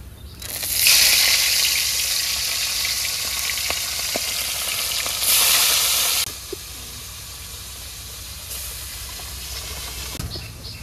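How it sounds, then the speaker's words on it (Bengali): Unpounded whole fish fry in hot oil in a pan in a simple village kitchen, giving a loud steady sizzle with bursts of steam and hiss, easing to a quieter crackle toward the end. "এইবার হলে আমি ভাজবো যেই মাছগুলো ছেঁচি নেই ওগুলো।"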